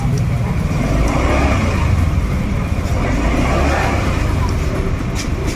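A lowered Honda Click 125/150 scooter engine runs steadily at close range, a loud continuous low rumble with a busy mechanical texture throughout.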